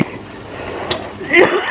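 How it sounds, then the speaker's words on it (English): A brief cough bursts out near the end, loud and close, after a stretch of quiet background noise. "It's got me coughing"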